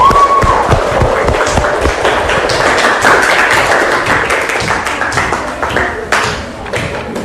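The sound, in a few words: classroom applause for group 2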